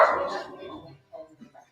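A sister's dog barks when someone arrives home, a loud burst at first that tapers off, followed by a few short, fainter yelps.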